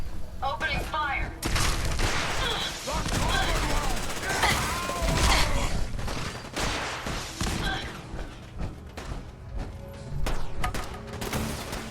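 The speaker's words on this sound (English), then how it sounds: "Opening fire!" Bursts of rapid gunfire and scattered shots rattle through a game battle, dense and loud at times, with voices shouting over the shooting.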